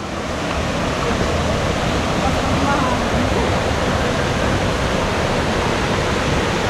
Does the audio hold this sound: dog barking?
no